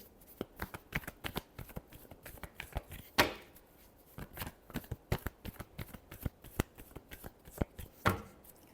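Tarot cards being shuffled by hand during a reading, a dense run of sharp riffling flicks and slaps repeating steadily, close and fairly quiet, with two louder bursts standing out.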